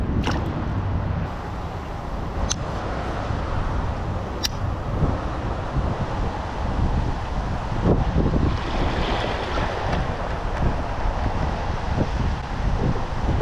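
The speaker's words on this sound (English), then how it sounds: "Big wind gust came up." A strong gust of wind buffets the microphone beside a creek during bass fishing near Fort Worth, a loud continuous rushing roar with scattered clicks.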